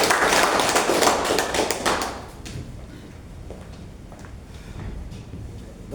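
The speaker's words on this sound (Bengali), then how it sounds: "লিডার জন্য করতালি" Audience clapping for a leader at a gathering, a dense burst of applause that thins out after a couple of seconds into scattered claps and quiet room noise.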